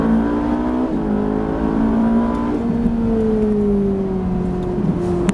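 A Ferrari 458 on the Le Luc race track revs up through the gears, its engine rising in pitch, dropping at each shift and climbing again, loud and steady throughout without talk.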